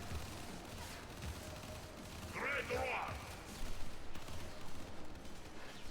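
Enemy gunfire in Warframe, a dense rattling fusillade of distant shots under a low game ambience, with a brief tonal effect in the middle and a voice speaking faintly over it.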